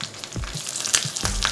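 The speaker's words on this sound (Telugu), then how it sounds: "నెయ్యి వేడెక్కిన తర్వాత 1/2 టీ స్పూన్ ఆవాలు, 1/2 టీ స్పూన్ జీలకర్ర వేసుకోవాలి." Mustard seeds, cumin, dried red chillies and curry leaves frying in hot ghee for a tempering, with a close, crackling sizzle and sharp pops, loud and busy, and no talking.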